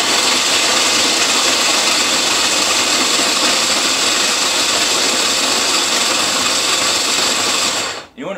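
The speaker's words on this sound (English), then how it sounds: "So now we're going to smash this up and grind it." Pistachios being ground for a chicken crust, likely in a food processor, give a loud, steady, unbroken whir that runs for about eight seconds and then cuts out abruptly.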